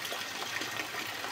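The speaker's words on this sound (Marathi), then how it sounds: "हे टेरेसवरून पाणी येते आणि हे पाऊस आहे" Rain falling as water pours down off a terrace beside a garden in Lonavla, an even, continuous rushing gush heard alone with no voices.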